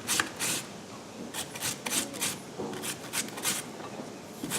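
Beets rubbed in quick, repeated strokes across a sharp grater, a close, dry rasping in bursts with short pauses between.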